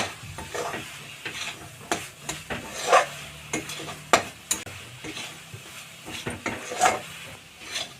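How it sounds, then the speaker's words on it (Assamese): Grated coconut fries and is stirred in a pan over very low heat, a spoon scraping in repeated strokes over a soft steady sizzle, close and unaccompanied by speech. "এতিয়া নাৰিকলখিনি মোৰ প্ৰায় ভাজা হৈ গৈছে"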